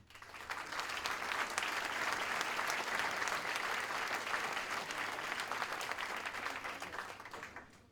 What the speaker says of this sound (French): je vous demande d'applaudir Françoise Rouquette.